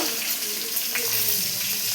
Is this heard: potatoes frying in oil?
yes